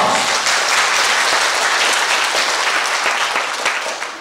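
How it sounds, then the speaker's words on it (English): Loud, sustained applause from an audience at a youth orchestra awards event, many hands clapping densely and evenly before easing slightly at the end. "applause"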